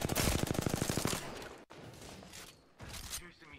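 Rapid automatic gunfire in the Apex Legends video game, a fast rhythmic burst of loud close shots for about a second, then quieter scattered shots and a second brief volley, with a voice talking over part of it.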